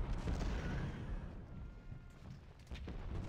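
Cannon fire from a Civil War artillery battle in Ultimate General: Civil War rumbles as continuous low booms, with dense overlapping shots and a sharper report near the end.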